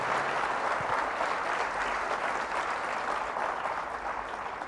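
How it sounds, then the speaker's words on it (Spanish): A Catholic church congregation gives strong applause in praise of Jesus during a service, a steady, dense roar of many clapping hands sustained for the whole stretch with no talking over it. "Fuertes aplausos al Rey de Reyes y Señor de Señores, Jesús de Nazaret."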